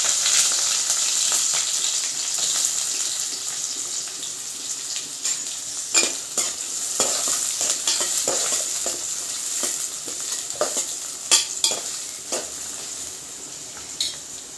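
Green chillies with onion and fenugreek seeds sizzle steadily in a hot oiled pan, with sharp scraping clicks from a spatula stirring against the metal, close and moderately loud, with no talk.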